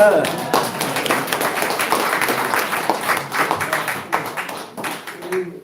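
Scattered clapping from a group at the launch ceremony of an election committee builds into applause and then thins out, with separate claps audible toward the end and some voices mixed in.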